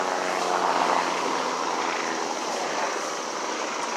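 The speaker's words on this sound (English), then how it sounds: "I think that's the same helicopter that passed over." A commercial helicopter passes overhead at an outdoor concert on Randall's Island, its engine and rotor making a loud, steady drone that holds throughout without letting up.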